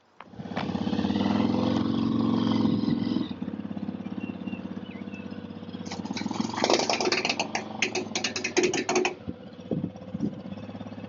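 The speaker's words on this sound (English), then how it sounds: "the ramps won't slide off as I power the motorcycle up the ramp" A dirt bike is ridden up loading ramps onto a truck tailgate, its engine revving hard and loud at first, then dropping to an uneven sputter before a burst of clattering revs and knocks as it climbs.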